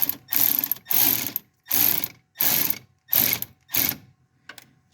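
A ratchet tightening a stainless steel hose clamp on a Toyota Avalon, heard as six quick bursts of clicking at an even pace, close and fairly loud, each separated by brief silence, with a faint trailing click at the end.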